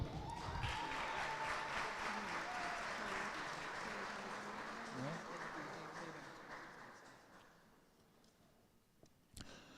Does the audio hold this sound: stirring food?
no